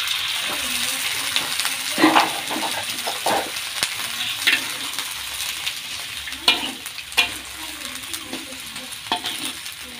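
Water poured into a wok of stir-fried long beans with anchovies and tofu, giving a loud, steady sizzle and hiss with scattered clicks of a spatula stirring and scraping close up.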